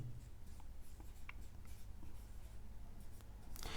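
A word being written on a board during a Hindi grammar lesson, heard as soft, faint scratches and taps over a steady low hum of room noise, with no clear speech.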